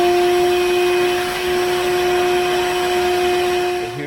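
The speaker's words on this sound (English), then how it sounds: "I have my shop vac over here to suck up the stuff as we go" A shop vac sucking up debris around a wood stove door during gasket replacement, giving a loud continuous whine and roar with steady tones, close to the listener and without speech.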